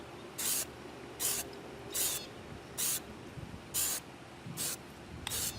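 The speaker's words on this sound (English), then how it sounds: "I'm just doing real short, quick bursts." Short, evenly spaced hissing bursts of Plastidip rubber coating sprayed from an aerosol can onto the outer ring of a Ninebot One E+ unicycle wheel, about seven quick sprays with brief pauses between them.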